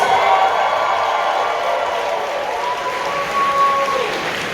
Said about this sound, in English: Can we have a big round of applause for Robin the Goblin